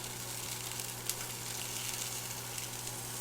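Pork browning in a pan, a steady close sizzle and crackle of frying meat with a constant low hum beneath and no talking.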